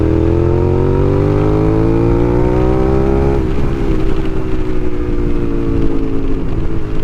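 A 2006 Suzuki SV650 V-twin motorcycle engine revs loud and close, pitch climbing steadily and then dropping into a rough, throbbing idle, with no voices.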